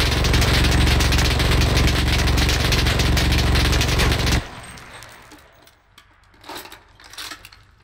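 A PPD-40 submachine gun sprays a long, dense, loud automatic burst in a World War II shooter for about four seconds, then cuts off, leaving quieter scattered shots and ambient battle noise.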